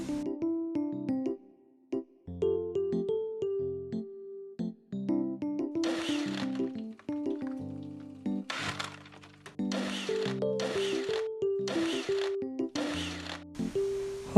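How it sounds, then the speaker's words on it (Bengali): A blender whirs through lemon sherbet with ginger and crushed ice in several short, loud bursts, with tonal background music playing throughout. "এবার ভালো করে ব্লেন্ড করে নিচ্ছি।"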